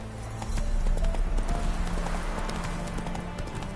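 Horse hooves clip-clop steadily in a PS4 game, a brisk, fairly loud rhythm of hoofbeats with a faint whinny over a busy background, and a brief voice early on.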